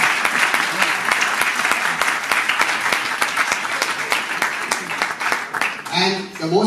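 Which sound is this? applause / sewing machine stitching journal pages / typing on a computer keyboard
applause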